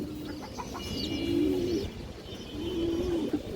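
Breeder and flying pigeons at a home loft coo softly in two drawn-out, rolling calls over a low background hum, fairly close and moderately quiet.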